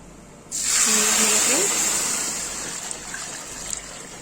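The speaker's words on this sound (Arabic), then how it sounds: "ننزل بالحليب السائل اهو" Liquid milk poured into a cooking pot on a stove: a steady, close hissing pour that starts abruptly, holds loud, then slowly tapers, with a brief low voice early on.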